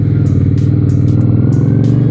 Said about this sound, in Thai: เครื่องยนต์วิทวิน 400 นะครับสองสูบลูกโตโต